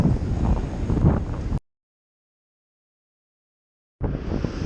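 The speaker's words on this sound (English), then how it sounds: "wind's definitely picked up out here. Probably got, I don't know, at least 20 mile-an-hour winds." Strong wind buffeting the microphone on a beach during surf fishing in gusts over 30 mph, a loud, rough rumble that cuts out to silence and then returns.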